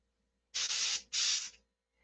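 Compressed air from a low-pressure air line sprays in two short hissing bursts, close and clear in an otherwise quiet space.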